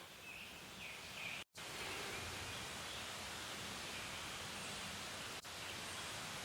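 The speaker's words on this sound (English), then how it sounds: "The stream's moving good" A flowing mountain stream rushes steadily, a broad continuous wash of water close by, briefly cut by a short gap, with faint bird chirps above.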